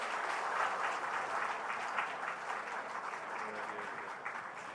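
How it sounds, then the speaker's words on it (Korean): A church congregation applauds after a prayer, steady rhythmic clapping from many hands filling the sanctuary, moderately loud and sustained before tapering slightly at the end. "우리 다시 한번 박수하겠습니다."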